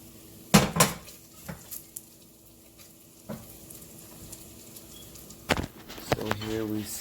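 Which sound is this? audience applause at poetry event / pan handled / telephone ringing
pan handled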